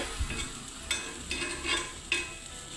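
Bread frying in a pan, a faint soft sizzle with a few light scraping or stirring touches, close by and quiet with no voices.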